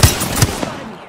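Rapid gunfire from an Apex Legends match during a 1v1 duel, a few sharp shots spaced across about a second over a dull low rumble, fading quickly afterward.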